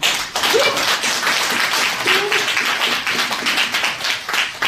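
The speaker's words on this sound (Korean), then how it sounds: "자축에 박수 한번 치실까요?" A loud, dense burst of applause from a graduation ceremony audience at an executive course, steady clapping from many hands sustained throughout.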